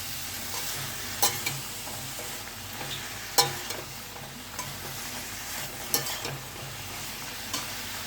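Vegetables for a spinach curry fry in a pan without added water, a low continuous sizzle near the mic, with occasional sharp scrapes and taps as a spoon stirs them, no talking.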